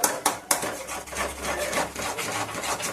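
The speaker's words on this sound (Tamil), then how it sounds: "முட்டையை ஊற்றிட்டு நல்லா அப்படியே ஒரு கலக்குதுங்க" Beaten egg being stirred and scraped around a hot cooking pan for a home Sunday lunch: a few sharp utensil clinks at first, then steady close rubbing and scraping against the pan.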